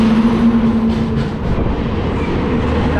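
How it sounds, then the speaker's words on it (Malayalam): Sangamitra Express, running KSR Bengaluru to Danapur, rushes past a train in loud continuous rumble and roar throughout, with a steady hum fading early on. "സംഗമിത്ര എക്സ്പ്രസ്"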